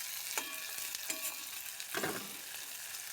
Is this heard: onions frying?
yes